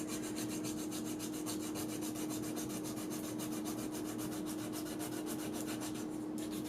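Fast, steady scratchy rubbing of a sanding stick, a continuous rhythmic rasp up close with a constant faint hum underneath.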